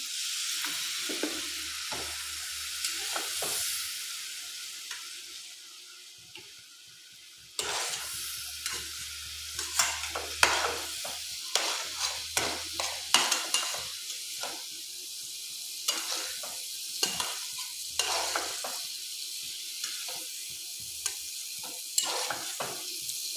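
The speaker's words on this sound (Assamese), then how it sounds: "আৰু এতিয়া মই ইয়াত পানী দি অলপ ভালদৰে মজাই ল'ম।" Fish curry with freshly added water is stirred in a pan, giving a soft bubbling sizzle with irregular scrapes and clinks of a spoon against the metal, close and moderately loud, with a short quieter stretch partway through.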